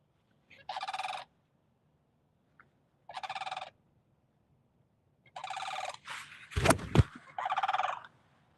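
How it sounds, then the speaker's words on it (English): Birds on a golf course give several loud, close gobbling calls in short separate bursts, with a brief sharp clatter among them and no talk. "Those birds are rooting for you."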